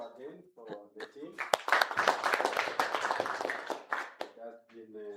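An audience at a university copyright and authorship workshop claps for the organising team, a dense patter of hands building up and then trailing off into a few scattered claps, with a voice speaking at the start and end.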